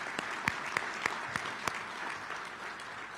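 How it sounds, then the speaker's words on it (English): Audience applause during a speech by Illinois Governor JB Pritzker at a retail merchants and manufacturers gathering, a steady wash of clapping from a sizable crowd with a few louder nearby claps standing out. "Now I want to give you a round of applause."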